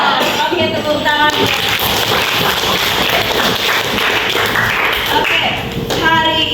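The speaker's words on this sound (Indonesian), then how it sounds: "Oke, tepuk tangan." A class of tenth-grade high school students in Bekasi claps hands together in a classroom, a dense, busy patter of many hands, with a teacher's voice speaking at the start and end.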